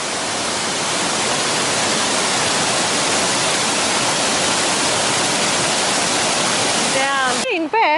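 A waterfall in the Catlins, New Zealand pours down over rocks in a loud, dense, unbroken rush of water that runs close and continuous, then cuts off abruptly near the end.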